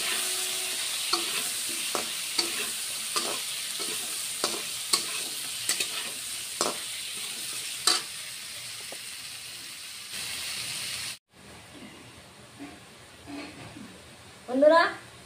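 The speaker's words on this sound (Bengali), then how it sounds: "আলু আর মিষ্টি কুমড়াটা ভেজে নিচ্ছি।" Potato and sweet pumpkin fry in a pan with a steady rain-like sizzle, punctuated by regular spatula taps, then the hiss cuts off and a voice speaks briefly near the end.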